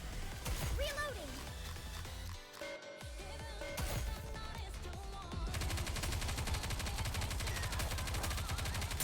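Sustained rapid gunfire and automatic weapon bursts in the game Goddess of Victory: Nikke, dense and loud, layered with game music and effects, with a brief lull before the shooting surges on steadily.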